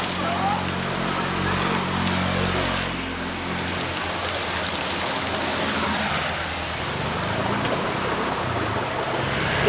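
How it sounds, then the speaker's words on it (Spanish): Heavy rain falls in Ubud, Bali, a dense and continuous roar of downpour close around, with faint voices underneath. "Empezó a llover muy fuerte, entonces nos paramos aquí tantito."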